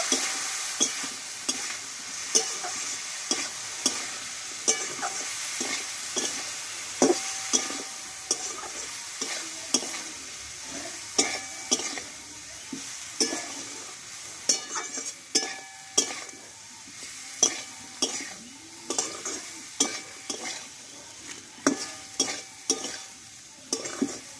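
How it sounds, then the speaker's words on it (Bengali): Drumsticks fry with turmeric, salt and a splash of water for a Bengali vegetarian curry: a soft ongoing sizzle broken by frequent sharp scrapes and clinks of a spatula against the pan, with no talking. "এবার অল্প একটু জল দেব, দিয়ে মশলার সঙ্গে ভালোভাবে একটু কষিয়ে নেব।"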